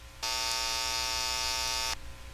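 A steady 880 Hz electronic test tone through a VLF LT-72 transformer sounds for under two seconds, buzzy and harmonically rich, starting and stopping abruptly over a low background hum.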